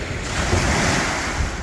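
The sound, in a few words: waves on Bridport foreshore, Tasmania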